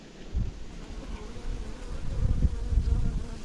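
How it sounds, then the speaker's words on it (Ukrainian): A wasp buzzing around beehive frames, a low steady droning hum that swells and fades as it moves close, with no talking. "Як ту осу вигнати?"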